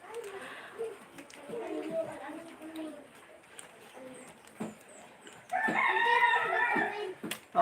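A rooster crows on a provincial Philippine farm in the morning, with a loud, clear call near the end. Quieter clucks and talking come before it.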